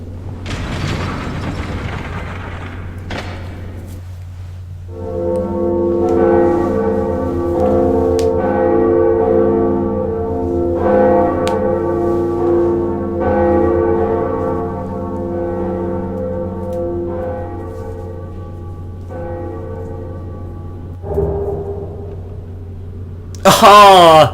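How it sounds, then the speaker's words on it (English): The second Bell of Awakening in the video game Dark Souls rings, with a low mechanical rumble and deep, sustained tolling tones that swell and fade over many seconds, loud and resonant, with a sharp burst at the very end. "the whole reason we came down here was to ring the second bell of awakening"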